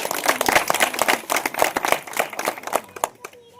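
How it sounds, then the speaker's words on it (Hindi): Crowd at a village panchayat Independence Day flag-hoisting gathering claps in uneven bursts, loud and close, rising and falling before tapering off near the end. "एक बार आप सभी के लिए तालियां हो जाएं।"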